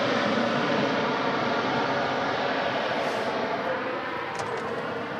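Thrust reversers on a landing airliner at Melbourne Airport give a broad, steady roar that holds loud for several seconds and then slowly eases off, with no talk over it.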